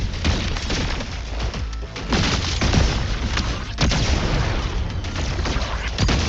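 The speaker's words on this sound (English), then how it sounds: "More grenades!" Grenade explosions in the Wuthering Waves video game, a dense run of loud booms and blasts going off in quick succession, layered with gunfire-like bursts and crashes.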